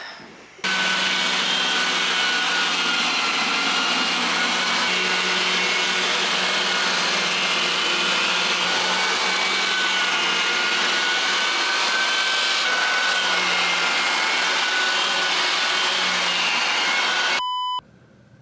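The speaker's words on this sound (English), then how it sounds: "All we have is the edge sander, but we're just gonna work with what we have today." An edge sander grinds along the edges of a wooden floor, a loud, steady motor whine with a gritty abrasive roar that runs continuously for most of the stretch before cutting off near the end.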